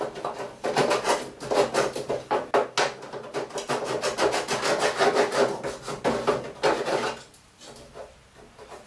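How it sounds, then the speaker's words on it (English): Rhythmic rasping strokes of a small sanding block scrubbing back and forth on wood to remove burrs, close and quick, with a brief pause near the end. "Let's go with this little sanding block."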